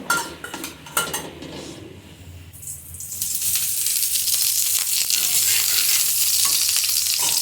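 An aloo paratha is laid on a hot tawa: a few soft clinks and handling sounds, then a loud, steady sizzle swells after about three seconds and holds close and even to the end, with no talking.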